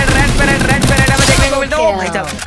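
Rapid gunfire and headshot hits in a mobile shooter game, dense continuous automatic bursts, loud and close, fading near the end.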